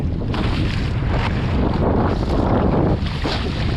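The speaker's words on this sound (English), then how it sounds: "Windy." Gusty wind blasts loudly and continuously against the mic, rising and falling in waves of rushing noise with no voices present.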